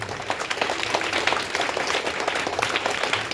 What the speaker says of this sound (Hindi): एक बार उसके लिए जोरदार ताली होना चाहिए।